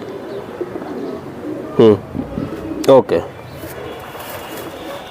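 Pigeons at a bird sale give two short bursts of low cooing a second apart, heard close over background chatter and someone talking.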